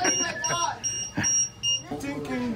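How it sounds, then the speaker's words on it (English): A fire alarm or smoke detector emits a steady, high-pitched beeping tone throughout, sounding in a garage workshop during the unboxing and assembly of a Primal RC dragster, while people talk over it nearby. "Is that a fire alarm"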